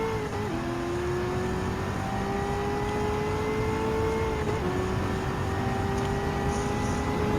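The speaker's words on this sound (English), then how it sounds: "Now let's hit the throttle." Car in Gran Turismo 7 at full throttle, a loud steady engine whine with pitch climbing through two quick gear shifts, continuous and close.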